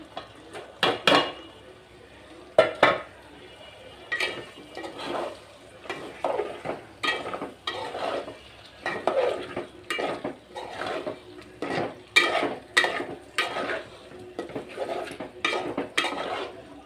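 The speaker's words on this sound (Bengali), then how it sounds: "কলিজাটা দিয়ে এখন একটু নাড়াচাড়া করে ঢেকে দিব" Beef liver stirred into a pan of cooked-down spices for liver bhuna, a spoon scraping and clanking against the metal pan in repeated strokes, close and moderately loud with a faint sizzle underneath.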